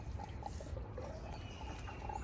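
Diesel exhaust fluid is pumped into a BMW diesel's tank, giving faint bubbling and gurgling liquid sounds against a low steady hum.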